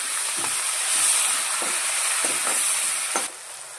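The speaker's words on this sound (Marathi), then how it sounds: "कांदा, टोमॅटो, थोडी कोथिंबीर फोडणीला टाकायची" Onion, tomato and coriander sizzle steadily in hot tempering oil for a misal curry, with a constant bright hiss and a few soft stirring scrapes. The frying is close and moderately loud, and it quiets slightly near the end.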